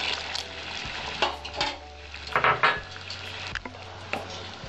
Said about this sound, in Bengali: এটা কন্টিনিউ নাড়াতে হবে